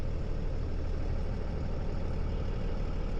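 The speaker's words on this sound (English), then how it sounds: "Let's let this truck squeeze by us here." A truck rumbles steadily as it squeezes past a parked vehicle on a foggy roadside, a low continuous engine drone close by with no talk.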